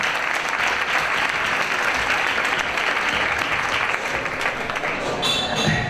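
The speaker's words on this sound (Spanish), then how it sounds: "Un aplauso muy fuerte, por favor." A film preview presentation audience breaks into sustained loud applause, many hands clapping in a dense, even roar that holds for several seconds without talk.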